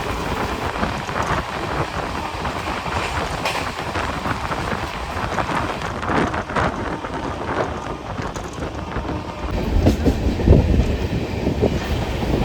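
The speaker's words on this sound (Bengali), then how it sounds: "সামনে থেকে আসছে বিকানির হাওড়া সুপারফাস্ট এক্সপ্রেস" The Bikaner–Howrah Superfast Express rumbling past on the rails, a loud, continuous rushing roar with rattling wheel noise that swells slightly toward the end.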